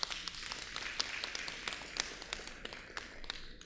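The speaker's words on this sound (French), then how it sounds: "Et je vous demande de les applaudir très fort." Audience at a hospital visit in Côte d'Ivoire applauding the medical staff who cared for conjoined twin girls, a light, fairly faint patter of scattered hand claps heard from some distance.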